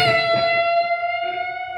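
A sustained distorted electric guitar note rings out, thick with harmonics, holding steady for the whole moment without any voice.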